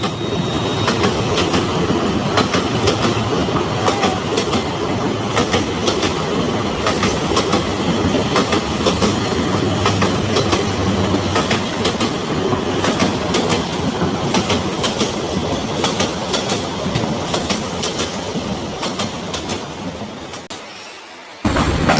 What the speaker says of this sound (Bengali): ওই যে দেখ, ট্রেনটাও এসে পড়েছে।